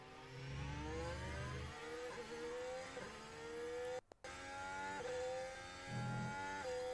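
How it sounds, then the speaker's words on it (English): Formula 1 car engine at Spanish Grand Prix practice, a distant, moderately loud whine that rises and falls through repeated gear shifts, with a short dropout midway. "Sergio Perez now driving this car"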